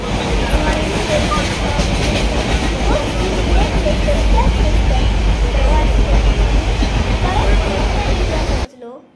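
A train rumbles and rattles loudly along the tracks, a dense, steady clatter that continues without pause before cutting off abruptly at the end.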